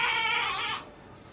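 A goat gives a single wavering bleat, close and fairly loud, that fades after under a second into quiet outdoor background.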